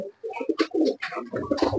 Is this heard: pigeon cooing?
yes